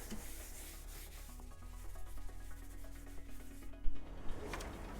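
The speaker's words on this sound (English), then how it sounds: "after you sand that, I just want to wipe off any dust that's on here." Sanding a Boba Fett vambrace prop piece by hand, a steady close rubbing and scraping texture that continues without pause, with a slightly louder scrape near the end.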